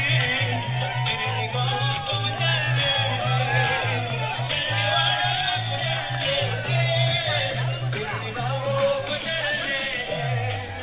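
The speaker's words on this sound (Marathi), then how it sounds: "जोरदार टाळ्या" A crowd cheers and applauds at a village cricket final as the player of the series is announced, a continuous dense roar of voices and clapping held at steady loudness under a repeating low amplified musical tone.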